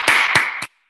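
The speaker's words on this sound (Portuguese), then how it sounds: "Palmas. Palmas para vocês." Three sharp, close hand claps come in quick succession during a law lecture, then cut off into silence.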